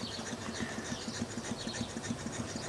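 A Stuart No 8 model steam engine running on compressed air gives a steady, quick rhythmic chuff of exhaust, evenly spaced beats over a constant hiss, close and fairly quiet with no talking.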